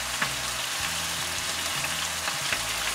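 Bavette steak searing in a hot pan, a steady bright hiss and crackle of fat with faint low scraping bumps, close and continuous with no talk.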